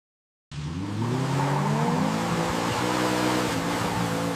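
A car is driven on a slippery skid-training track in Norway: a sustained engine drone with tire noise starts abruptly after a brief silence and holds steady and loud.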